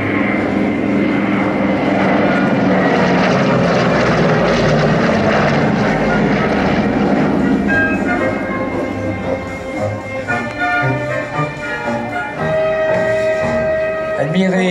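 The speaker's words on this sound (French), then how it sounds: "Admirer l'élégance de l'avion" A Douglas DC-3 propeller airliner passes at an airshow at La Ferté-Alais, its loud radial engines roaring steadily throughout, with a rising and falling whine in the second half as it flies by.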